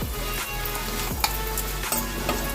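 Asafoetida, cumin and fennel seeds sizzle in hot oil for a dry potato sabzi, a steady close crackling fry with a few sharp pops and spoon stirs, no talking.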